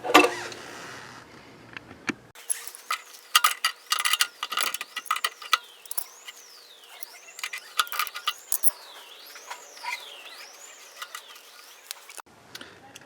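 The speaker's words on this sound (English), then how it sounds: "I'm just going to take and use a adjustable here and go ahead and loosen this up." Clicking ratchet-like metal mechanism sounds from an adjustable wrench loosening a vacuum fuel valve on a Harley-Davidson motorcycle, close and repeated in uneven bursts with a faint tonal whine behind, no talk.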